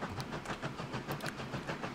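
Rolling rumble of a small train in the transport simulation game Transport Fever 2, an East Yorkshire map, with steady clickety-clack and faint whistle-like tones, moderately quiet and alone.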